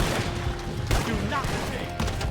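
A volley of gunfire from Red Dead Redemption 2 cracks out in a short burst of shots over dense game sound and shouting voices, loud and close.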